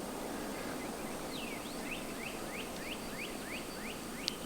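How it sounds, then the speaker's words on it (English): Rio Grande wild turkey gobbling far off in South Texas, a faint rapid series of gobbles over steady outdoor background hiss, no talk. "There, he just gobbled again."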